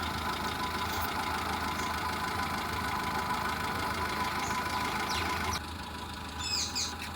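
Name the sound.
Hyundai i10 Magna 2008 engine running live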